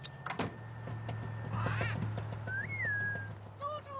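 A bird in The Sims 3 gives a few bright, rising and falling whistled calls over a steady low game hum, with a short click and some soft background noise.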